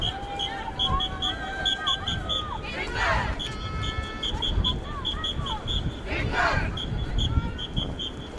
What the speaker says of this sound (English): The whistle in the crowd that's leading the chanting